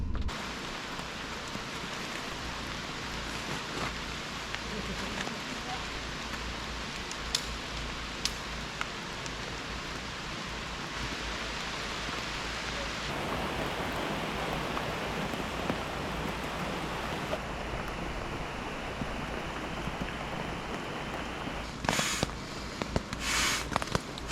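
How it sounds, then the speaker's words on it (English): Heavy rain patters steadily on a taut tent roof overhead, a soft continuous hiss with a few sharper drops near the end, fairly quiet and even. "So the rain is coming down pretty hard."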